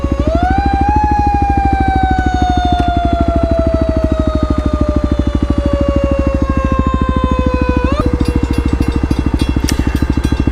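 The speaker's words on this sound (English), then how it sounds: "Wow, we got a loud siren." A loud, sustained emergency siren wails close by, its pitch gliding slowly downward over the rapid throbbing engine rumble of a 2018 Kawasaki KLX250 motorcycle, then a brief chirp near the end.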